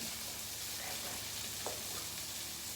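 Brussels sprouts, halved and laid cut side down in olive oil in a flat pan, give a soft, even sizzle with a faint tap partway through.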